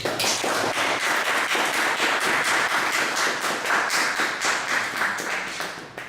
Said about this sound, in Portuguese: Um salve de palmas para o Rafael.